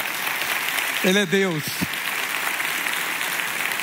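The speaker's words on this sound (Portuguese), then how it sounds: "E vamos aplaudir o Senhor." A church congregation claps steadily through a sermon, a continuous bed of applause filling the room while a preacher's voice briefly rises over it with a short spoken phrase.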